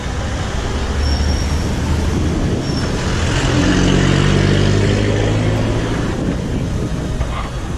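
Street traffic flows along Calle de la Madera in Rionegro, Antioquia, a dense, continuous roar of passing vehicles with a heavy engine rumbling nearby midway through, loud and close with no talking.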